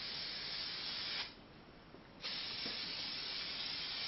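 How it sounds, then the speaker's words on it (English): Spray adhesive hissing from a can onto a seat pad during chair upholstery, a steady close spray with one short pause before resuming. "Just a bit of spray adhesive."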